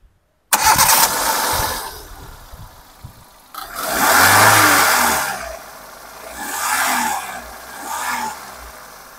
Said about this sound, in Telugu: సరే ఇంజిన్ స్టార్ట్ చేసి మీకు బ్యాక్ కంప్రెసర్ కానీ ఆయిల్ లీకేజ్ కానీ ఉందని చూద్దామండి.